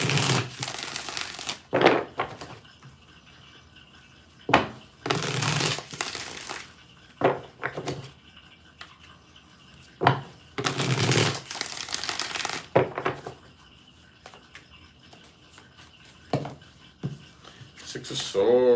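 Tarot cards being shuffled by hand in short bursts of riffling and crinkling, several separate rounds spaced through a quiet room, close and fairly loud against near silence.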